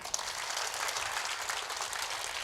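An audience claps steadily at a public talk, a dense, even wash of applause that holds throughout the short stretch with no speech over it.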